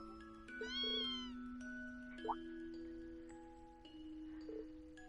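A kitten in the video game Trails of Cold Steel gives a couple of high, rising meows over a quiet sustained musical tone, with soft chimes scattered around them.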